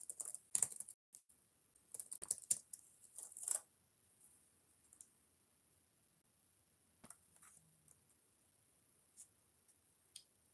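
Keys clattering on Bluetooth computer keyboards, quick close bursts of clicks at the start, then sparse single taps spread over near silence.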